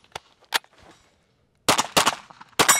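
Gunfire from a Kriss Vector SDP Gen 2 submachine gun: two sharp single shots close by, a brief pause, then several loud rapid bursts cracking in quick succession.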